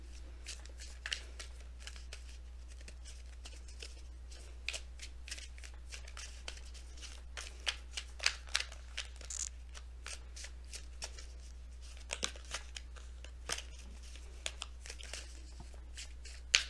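Messenger Oracle tarot cards being shuffled by hand, a steady run of soft riffles and slaps, close but quiet over a low background hum.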